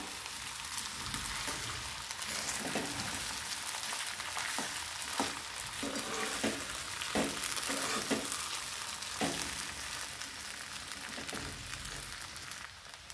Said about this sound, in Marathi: आणि हे छान हलवून घ्यायचे आपल्याला।